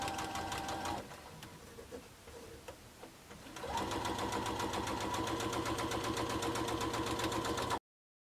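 Sewing machine stitching green and background quilt squares for a four-patch block, a steady close mechanical whir that dips briefly, then resumes in a fast even rhythm until it stops.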